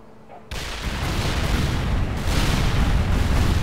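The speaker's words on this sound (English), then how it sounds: "I'm just going to start shelling different areas here and see if I can take out any of the emplacements" Artillery shelling in World in Conflict strikes with a sudden loud onset after a quiet moment, then sustained heavy rumbling blasts and crackling booms that keep building.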